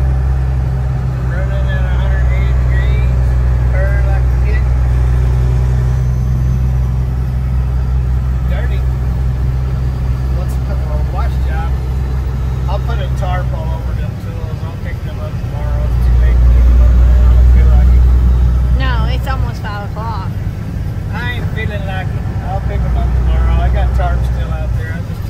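An old Freightliner truck engine runs with a steady low idle rumble, swelling louder briefly midway before settling back, while people talk nearby over it.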